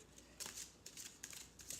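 Tarot cards are shuffled quietly in soft, repeated riffling bursts at an even rhythm, with nothing else heard.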